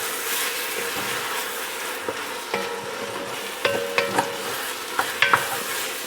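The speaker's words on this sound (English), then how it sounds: "we're just going to give that a stir" Tomato rice is stirred in a hot pan to lift the browned bits from the bottom, with steady sizzling and a series of crisp spoon taps and scrapes that cluster toward the end.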